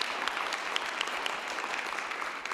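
Audience applause at a conference session, dense steady clapping from a crowd filling the whole stretch without letting up.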